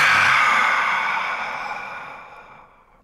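A single long, deep exhalation during a guided breathing meditation, loud and breathy at first and then tapering slowly to silence over about three seconds, with no talking.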